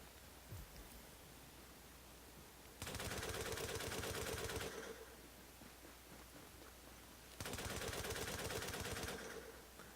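Light machine gun fire from The Division, heard as two sustained automatic bursts of roughly two seconds each, loud and dense, separated by a quieter stretch of background noise.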